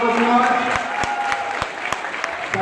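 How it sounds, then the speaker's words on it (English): Class applause in a room, steady dense clapping from a group with a few sharper individual claps standing out, moderately loud throughout. "So can we welcome him with a round of applause?"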